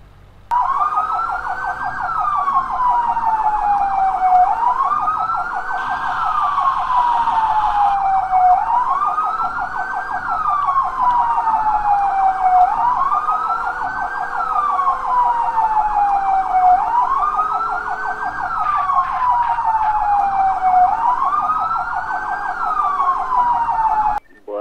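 A loud wailing police siren in GTA MTA RP sweeps up and down in a steady repeating cycle, continuous and close, with a faint engine rumble beneath.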